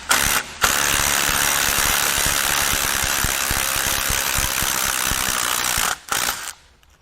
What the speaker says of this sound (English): Next, we're going to pull the crank pulley and then the front timing cover. The harmonic puller I use is a OEM Tools.